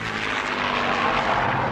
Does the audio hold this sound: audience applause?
no